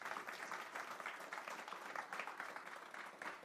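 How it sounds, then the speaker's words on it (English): Audience at an enterprise AI event applauds a guest speaker, a continuous faint wash of clapping heard from a distance. "maybe start with a round of applause for Otmar who's given up his time."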